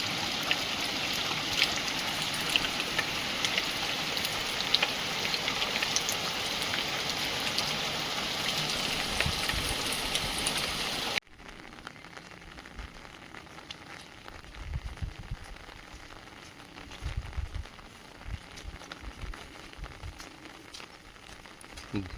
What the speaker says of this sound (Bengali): খুব জোরে বৃষ্টি হচ্ছে না, কিন্তু আস্তে আস্তে বেশ ভালোই বৃষ্টি হচ্ছে।